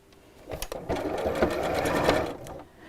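A sewing machine stitches fabric around a seam with the stitch lengthened to 2.6, a steady close mechanical whirr that starts after a brief pause, runs evenly for about two seconds, then stops.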